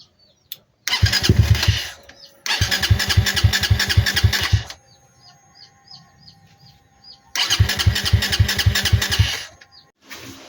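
A Yamaha Mio motorcycle fitted with a big carburetor revs in three loud, close bursts of sputtering engine roar, each lasting a couple of seconds and separated by quieter idling gaps.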